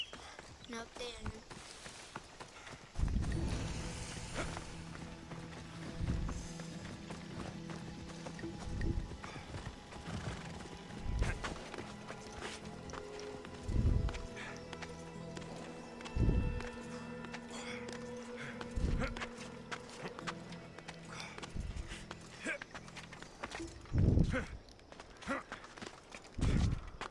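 Horse hoofbeats in Assassin's Creed, a string of thudding clip-clops at an uneven pace amid faint game ambience, with occasional louder hoof strikes standing out.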